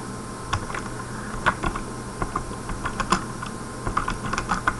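Keys on a computer keyboard are tapped in uneven bursts of soft, close clicks over a faint steady hum, with no one talking.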